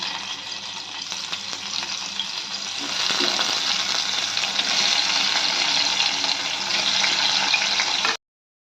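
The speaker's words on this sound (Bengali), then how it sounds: "বাকি যে পনিরগুলো সেগুলো আমরা ভেজে নেব।" Paneer pieces frying in oil in a pan, a steady close sizzle that grows a little louder partway through and then cuts off abruptly.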